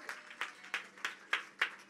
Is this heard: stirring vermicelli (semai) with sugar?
no